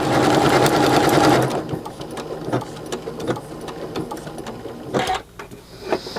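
A sewing machine stitches decorative Christmas applique, running in a loud continuous whir for over a second, then stopping and starting in short bursts with clicks and pauses at close range.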